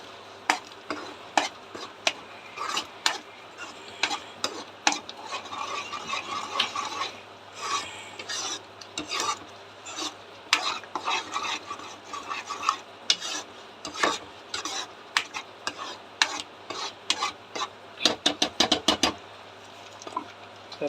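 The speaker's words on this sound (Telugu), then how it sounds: "టేబుల్ స్పూన్ కొంచెం ధనియాల పొడి కలుపుకొని" A spoon scrapes and stirs through paneer curry as coriander powder is mixed in, a run of close, rhythmic rasping strokes, briefly quicker near the end, with no talk.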